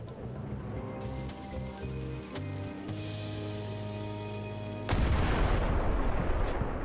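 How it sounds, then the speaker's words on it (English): A cannon fires in Return to Monkey Island, a sudden loud blast that breaks a sustained musical passage and is followed by a broad rumbling wash of sound. "Like the cannon."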